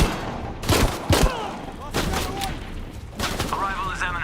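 Gunfire in Shadow of the Tomb Raider, with several loud sharp bursts and rattling volleys over a noisy battle background, while voices shout nearby.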